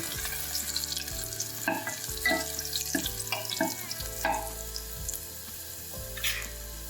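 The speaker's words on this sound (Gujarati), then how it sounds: "અડધી ચમચી એમાં હિંગ એડ કરશું અને લસણને થોડુંક આપણે સાતળી લેશું" Chopped garlic and a pinch of asafoetida sizzle softly in hot oil in a pan, with a constant frying hiss and occasional light clinks of a stirring spoon while cooking a radish-leaf dish.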